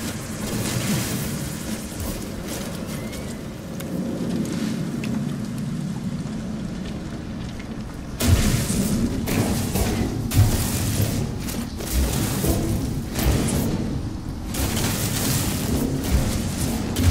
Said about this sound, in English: So I will stay here until the storm is over.